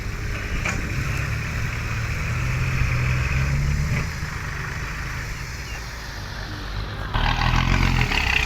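A Hitachi ZX200-5G excavator's diesel engine idles with a low, steady rumble, dipping briefly before growing louder again near the end.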